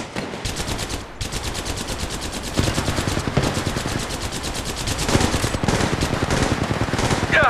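Rapid automatic gunfire from an Apex Legends Mobile match rattles in long, dense bursts, loud and close, with brief gaps between volleys and no talk over it.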